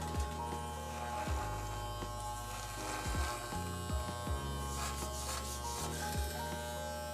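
Electric hair clippers fitted with a half-inch guard buzz steadily close up while trimming a beard, the motor tone dipping and shifting in short bursts as the blades pass through longer hairs.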